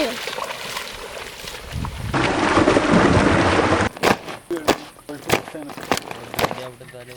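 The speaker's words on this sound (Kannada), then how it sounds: "ಮಳೆ ಬರ್ತಾರೆ" Heavy rain pours down in a village, a dense steady hiss that rises suddenly and then gives way to a series of sharp cracks and knocks, with voices around it.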